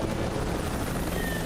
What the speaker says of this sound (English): There are choppers flying here all the time, you know that.